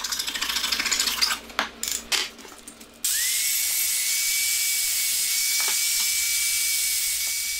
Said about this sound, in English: Just hitting the back edge here with the grinder.